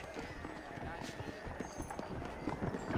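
Horses' hooves clip-clop in Red Dead Redemption, a steady run of hoofbeats at moderate distance heard under voices talking.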